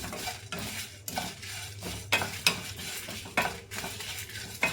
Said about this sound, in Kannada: ಸೊ ಈಗ ನೀಟಾಗಿ ಫ್ರೈ ಮಾಡ್ಕೊಳ್ಳೋಣ